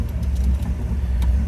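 A 1961 Chevrolet Impala convertible with a 348 Tri-Power V8 idles close by, a steady low rumble with a smooth, even pulse and no talking.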